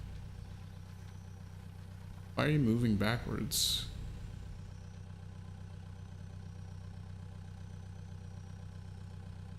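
Tractor engine pulling a plow in Pure Farming 2018, a steady low droning hum throughout, briefly masked by a voice speaking over it near the start.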